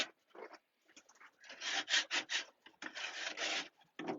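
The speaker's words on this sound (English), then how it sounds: "So we're scraping the perches out." Pigeon droppings being scraped off loft perches, rapid rough rasping strokes in short bursts and longer runs, close and fairly quiet.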